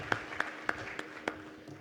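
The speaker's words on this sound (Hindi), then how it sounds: "सो आप सबके लिए ज़ोरदार तालियाँ" A handful of sparse, separate claps from a seminar audience, about five sharp hand claps spaced irregularly across a couple of seconds, faint and somewhat distant rather than full applause.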